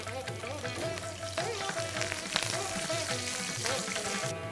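Chili, ginger and curry leaves fry in hot oil for upma, giving a close, steady crackling sizzle with dense popping and spitting that runs evenly throughout, with no voices.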